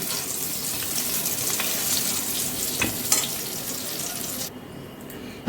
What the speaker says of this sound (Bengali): দেখো বেগুনগুলো খুব ভালো করে ভেজে নিয়েছি এবার বেগুনগুলোকে আমি তুলে নিচ্ছি